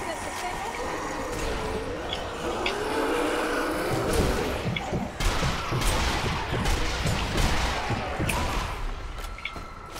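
Gunfire aimed at a tank in Zombie Army Trilogy, a series of sharp shots and bursts growing busier toward the end over a rumbling, mechanical background, with talking throughout.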